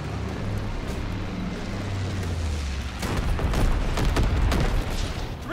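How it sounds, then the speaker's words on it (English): Incendiary bombs going off in Call of Duty: WWII, a heavy rumbling roar that swells into a denser barrage of booms and crackling blasts, loud and continuous. "Dropping incendiary."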